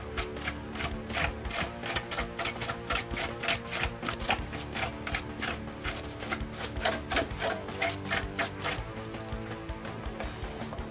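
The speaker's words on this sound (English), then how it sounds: "Give it a little brush." Brushing inside a Behringer Studio L mixer, a quiet rapid scrubbing of bristles repeating in steady short strokes close to the microphone.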